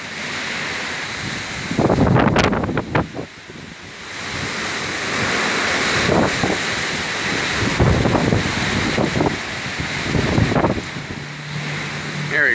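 Hurricane Irma gusts of 60 to 70 mph roar loudly in repeated surges, blasting the microphone with rushing, buffeting wind noise that rises and falls over a constant storm background.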